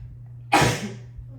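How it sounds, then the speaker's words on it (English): A woman lets out a single sharp, loud sneeze over a low steady background hum, fading quickly. "It's like my morning sneezes."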